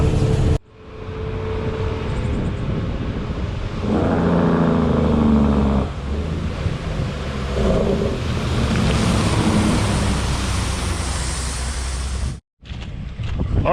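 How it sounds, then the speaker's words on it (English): Heavy rain drums steadily on a truck hauling a lowboy trailer while it drives, a dense broadband wash over low road rumble that holds for most of the stretch before cutting out briefly near the end. "it's raining pretty good"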